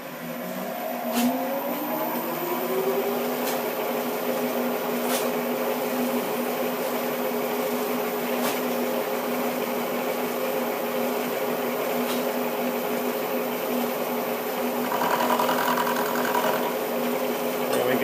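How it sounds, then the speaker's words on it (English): A milling cutter spinning at 600 RPM on a lathe job for a tailstock chuck mount: a steady mechanical whine and hum throughout with faint periodic clicks, a slight shift in tone near the end, fairly quiet and without speech. "Going to run the cutter on 600 RPM."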